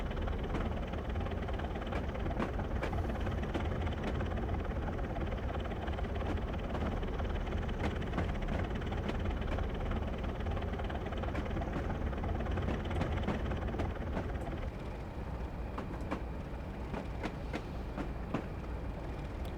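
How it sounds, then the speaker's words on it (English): Blue-era diesel locomotive hauling a train on the West Highland Line in Train Simulator Classic: a steady, loud engine drone with rumbling wheels and faint clicking rail joints, continuous throughout and easing slightly near the end, with no talk. "You can't beat the sound of a Blue Era diesel."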